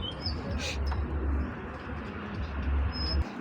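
Domestic fancy pigeons offered for sale coo in low, rolling throbs, close and continuous, with a few faint chirps and a steady background murmur.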